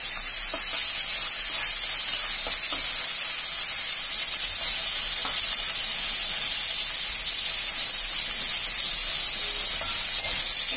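Grated onion and ginger-garlic paste frying in a pan for a taro and lentil-dumpling curry, giving a steady, close hiss and sizzle throughout with a few faint scraping knocks.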